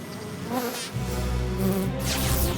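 Cartoon flash bees buzz in an animated series: a dense, steady insect buzzing fills the clip, loud and close, swelling slightly partway through.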